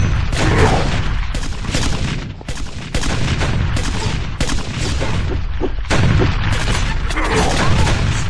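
Rapid bullet fire from Smash Heroes, a Hypixel Minecraft server game, with dense repeated shots and booms running loud and nearly continuous, interrupted by brief gaps.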